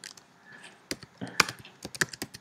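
Fingers type on a Mac computer keyboard while entering data into an Excel spreadsheet, producing quiet, irregular clusters of crisp key clicks and taps, close and soft, without speech.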